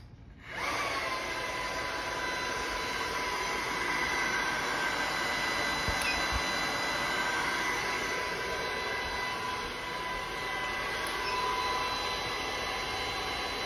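A steady, close whooshing airflow with a constant high-pitched motor whine, running without a break from start to finish.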